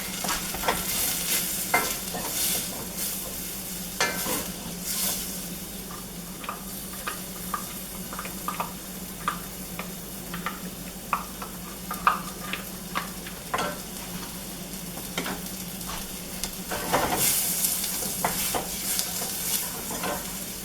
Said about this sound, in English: And cook, stirring until softened, about 3 to 4 minutes